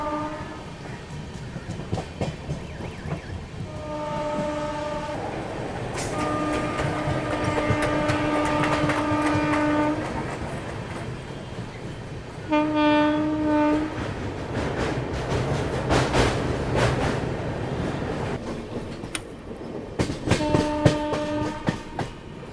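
An Indian passenger train runs on the line between Bhubaneswar and Kolkata near Andal, with a rumbling roll of wheels and clickety-clack, repeated horn blasts, and a brief louder surge of passing noise.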